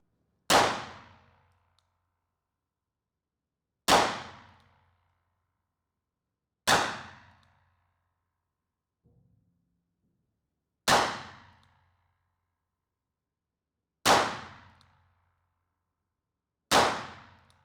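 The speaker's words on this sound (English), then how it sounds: "I'm going to aim for the bottom left of our target there." A World War 2-era revolver fires six spaced shots, each striking a steel target with a sharp ringing clang that decays quickly, at intervals of roughly three seconds.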